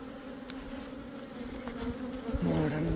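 Honeybees buzzing around an opened beehive during an inspection, a close, steady drone with several individual bees passing near, growing a little louder toward the end, with no talk.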